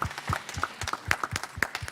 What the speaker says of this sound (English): A round of applause, guys.